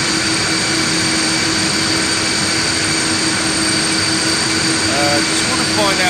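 Antonov An-124 cargo aircraft engines run at Houston's IAH airport, giving a loud, steady, continuous roar that holds level throughout.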